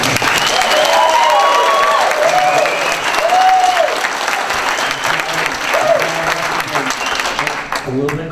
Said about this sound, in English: A little bit of clapping is okay